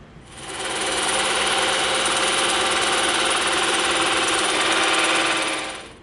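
A thick 2-inch slab of EVA foam is cut with a power tool, a steady buzzing, rattling drone that ramps up, holds for several seconds and then winds down, close and loud with no talking.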